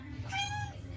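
A single short, high meow, fairly faint and close, lasting under half a second over quiet background hum.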